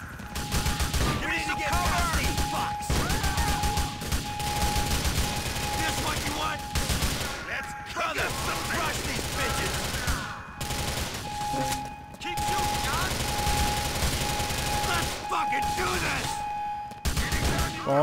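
Rapid bursts of gunfire crackle almost nonstop, layered with game sound effects and a steady tone, like a busy shooter match in GTA: The Lost and Damned.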